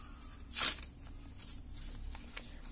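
A paper sticker packet rips open with one short, crisp tear near the start, followed by faint rustling and handling of paper.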